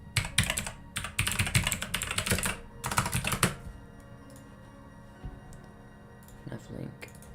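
Fast bursts of typing on a computer keyboard, dense clattering keystrokes in several runs that then stop, leaving quiet room tone with a faint voice or two.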